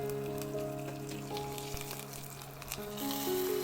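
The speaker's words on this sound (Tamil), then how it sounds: "இப்போ சாம்பாருக்கு வந்து ஒரு தாளிப்பு கொடுத்துடலாம்" Spices crackle and sizzle in hot oil as a tempering is poured into a pot of sambar, a steady close frying hiss with scattered pops, no voices.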